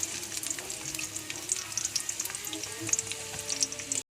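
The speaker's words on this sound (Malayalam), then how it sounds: "അപ്പോൾ അതിലേക്ക് ഉള്ളി ഇടുന്നു." Onions dropped into hot oil and frying, a bright crackling sizzle close by that continues steadily before cutting off abruptly.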